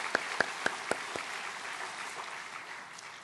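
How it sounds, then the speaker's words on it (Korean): Church congregation at a Sunday service in a Korean Baptist church: a few sharp, distinct claps at the start, then a soft, diffuse patter of scattered applause that fades down, fairly quiet and distant. "모든 분들께도 감사와 축하의 박수 한번 드리겠습니다"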